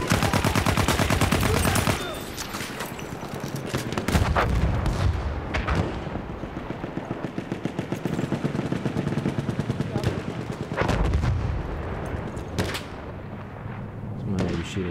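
Rapid gunfire and booming blasts in the Battlefield 1 Sinai Desert map during a Rush match, dense and loud throughout with bursts of automatic fire and heavy impacts, a voice briefly audible underneath.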